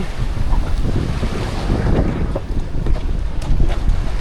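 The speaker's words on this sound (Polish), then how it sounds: "Jesteśmy na łódce." A boat moves across open sea water off Zanzibar, with waves slapping, engine rumble and strong wind buffeting the microphone throughout; no voices.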